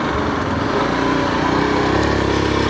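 A motorcycle pulls away on a night ride through Bangalore, its engine note steady and fairly loud, rising slightly in pitch as it gears up.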